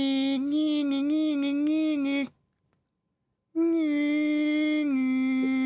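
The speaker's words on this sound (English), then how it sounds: "That was the sound of a dial-up modem." A dial-up modem connecting, with loud, steady warbling handshake tones that cut off into a brief silence and then resume as bright, sustained screeching.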